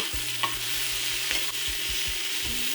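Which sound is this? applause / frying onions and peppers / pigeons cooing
frying onions and peppers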